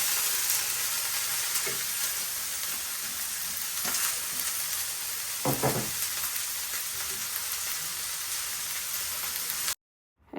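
Vegetable bhaji of bottle gourd peel frying in a pan: a steady sizzling hiss with a few scraping stirs and clanks of the spatula, ending abruptly in silence.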